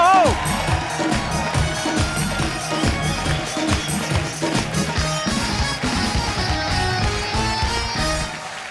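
Studio audience on The Kapil Sharma Show applauds and cheers loudly to welcome comedian Sunil Pal, a dense, steady roar of clapping and whoops lasting several seconds, with music and a host's voice mixed in.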